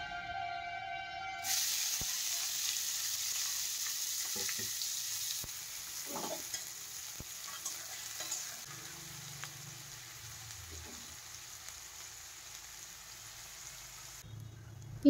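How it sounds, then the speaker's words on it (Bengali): Chopped onions tipped into hot oil in a home kitchen, setting off a soft, steady frying hiss that runs continuously with faint stirring scrapes, fairly quiet and close. "তো সেই পেঁয়াজগুলো সবই দিয়ে দিচ্ছি এই তেলে।"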